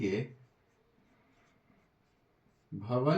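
A pen or chalk writes out a maths solution with soft, faint scratching strokes during a quiet pause, framed by someone speaking at the start and end.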